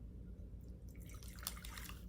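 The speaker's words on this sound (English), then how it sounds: "So we're gonna pour the water in the bowl" Water is poured into a bowl as a quiet, faint trickle with a few light drips and splashes. It grows slightly busier in the second half, with no talking.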